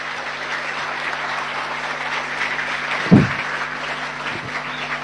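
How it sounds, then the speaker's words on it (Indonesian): Applause at a lecture on the lineage of Madurese Islamic scholars: a steady, moderate wash of clapping from a gathered audience throughout, with a brief thump partway through. "Tepuk tangan untuk Bata-Bata."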